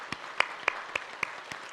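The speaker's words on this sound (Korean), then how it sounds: "우리 두 분에게 축복의 박수, 환영의 박수 뜨겁게 한번 부탁드리겠습니다" A church congregation claps in welcome during a Sunday worship service, with a handful of sharp, evenly spaced claps ringing out at a steady rhythm over a quiet room.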